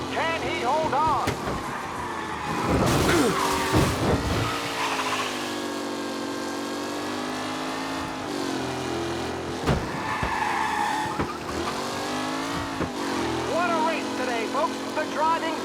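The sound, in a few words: race cars driving and skidding in Mafia Definitive Edition video game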